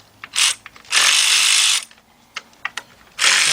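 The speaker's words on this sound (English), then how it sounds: "this is why it's good to have your cordless ratchet, guys, because this makes it a lot easier and a lot faster to take" Cordless impact ratchet with a 10mm deep 3/8 drive socket spinning out valve cover bolts on a Trailblazer-type engine: loud, close whirring bursts of about a second each, broken by short clicks and clatter, with no talk.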